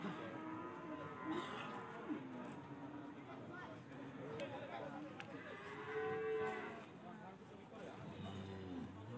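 Cattle moo at a busy livestock market in Pati, with low bellows rising from constant crowd babble and people talking nearby.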